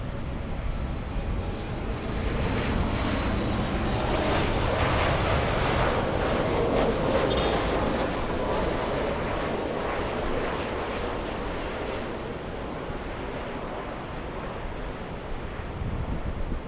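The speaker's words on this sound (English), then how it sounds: "we have Southwest 4504 flying in from San Jose, California" A Southwest Airlines jet on a 52-minute flight from San Jose lands at LAX. A continuous broad engine roar is mixed with gusting wind noise on the microphone, and no one speaks.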